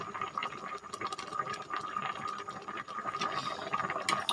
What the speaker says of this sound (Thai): เดี๋ยวขอเติมน้ำปลาอีกนิดนึงนะคะ